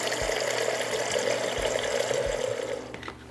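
Water pours steadily into a coffee maker, a continuous even rush with a few low knocks, then tapers off at the very end.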